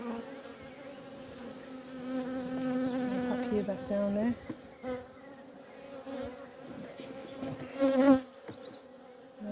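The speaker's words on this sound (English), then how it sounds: "But you can see the bees there working away." Honey bees buzz steadily and close on a hive frame in an Irish apiary in spring, a dense droning hum that swells and dips as the frame moves, with someone speaking briefly over it.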